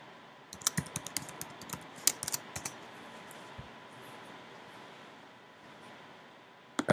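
A username and password are typed on a computer keyboard in a quiet room, with scattered soft key clicks and a few quick bursts of keystrokes over a faint steady hiss.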